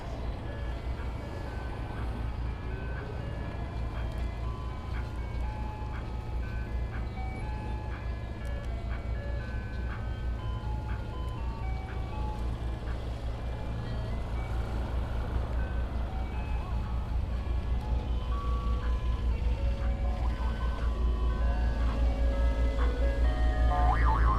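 On a winter street in Washington DC, an ice cream truck plays its tinkling melody on a loop over a low rumbling engine idle, growing slightly louder toward the end.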